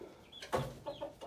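Backyard chickens cluck softly nearby, a few short clucks and murmurs in quick succession, faint and without speech.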